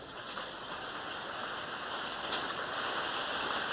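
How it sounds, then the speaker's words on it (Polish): Rain patters on a tin roof, a steady, dense, fairly quiet hiss with faint tapping throughout and no voices. "a teraz Wam wyjaśnię, że to co słyszycie to jest deszcz"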